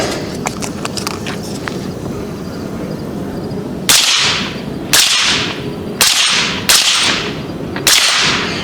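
Five sharp shots from a custom AR-15 in .300 AAC Blackout cracking in a loose sequence, passing through rubber plates, each with a quick echoing decay over a quieter stretch of faint ticking and handling noise.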